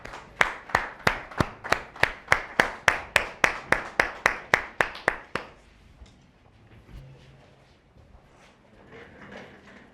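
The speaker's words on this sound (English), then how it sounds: "Can we please give him a round of applause?" Audience at a Mamelodi Sundowns press conference welcoming new head coach Miguel Cardoso with a round of applause, about seventeen evenly spaced, crisp rhythmic claps in unison over roughly five seconds, then fading to quiet room tone.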